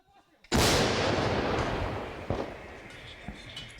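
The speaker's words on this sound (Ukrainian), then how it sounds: "Снаряд летить у бік Торецька." An artillery gun fires a shell with one sudden loud blast that booms and rolls off slowly, followed by faint thuds and distant clatter.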